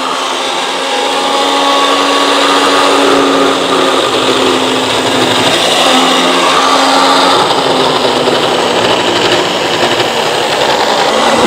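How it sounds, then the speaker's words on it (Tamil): A fabric cutting machine slices nighty cloth in a Madurai garment factory, giving a loud, continuous high-pitched motor whine that holds steady throughout with no break. "இப்போ மார்க் பண்ணியாச்சு, கட் பண்ண போகிறாங்க."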